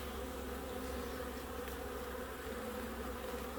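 A steady, dense drone of many honeybees fills the air around an open hive during an inspection, continuous and close with no talking.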